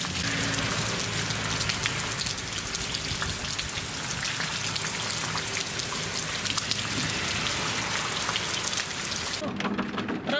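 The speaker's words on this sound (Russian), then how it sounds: "Еще старый град не успел растаять. И у нас сейчас все сыпется заново." Large hail mixed with rain pouring down in March during a thunderstorm, a dense, steady hiss of pelting ice peppered with sharp clicks, loud and continuous before it drops away abruptly at the very end.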